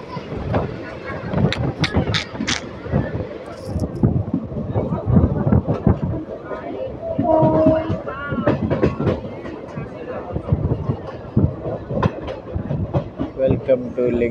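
Bidar intercity express train rolling on rails during a rainy journey, heard from a window seat as a continuous rumble with rhythmic clicks and clatter, under steady background voices throughout.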